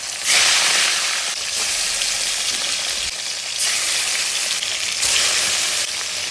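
Rohu fish fries in hot oil in a kadai, giving a loud, continuous crackling sizzle with slight surges in intensity, heard up close and alone without speech.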